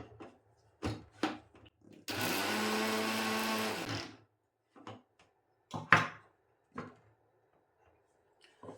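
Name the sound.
mixer grinder grinding turmeric into kumkum powder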